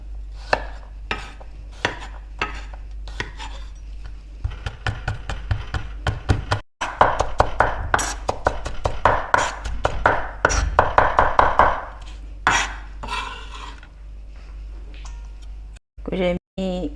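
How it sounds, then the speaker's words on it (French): Knife chopping garlic and ginger on a cutting board for eggplant ravioli, a run of quick, close taps that comes in bursts, sometimes sparse and sometimes dense, with a low background hum under it. "On va hacher l'ail et gingembre."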